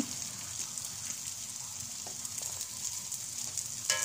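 Garlic, onion, pepper and a few carrots sauté in a pan for soup, a faint steady sizzle close by with light scraping of a stirring spoon near the end.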